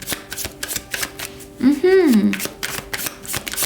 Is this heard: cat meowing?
no